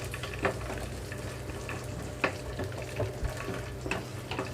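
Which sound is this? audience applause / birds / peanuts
peanuts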